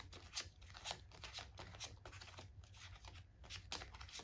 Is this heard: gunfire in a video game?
no